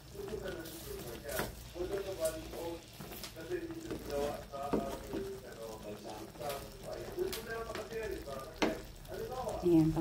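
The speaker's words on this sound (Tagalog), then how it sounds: "So, haluin na ba natin?" Kare-kare being stirred in a full frying pan, a soft sizzle and simmer with occasional scraping stirs, under light background sounds and bird-like cooing, fairly quiet throughout.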